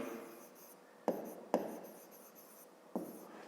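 Pen or marker writing a math expression by hand for a fifth-grade exercise, heard as soft scratchy strokes with a few sharp taps, close and quiet, with no talk.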